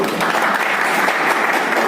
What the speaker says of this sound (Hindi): एक जोरदार तालियां बजाइए सर के लिए